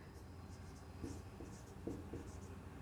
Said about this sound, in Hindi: इसी सीध में आप लिखते जाइए